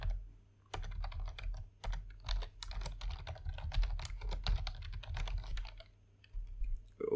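Rapid clicking of keys on a computer keyboard while code is typed, steady bursts of keystrokes close up, with a brief pause near the start and another toward the end.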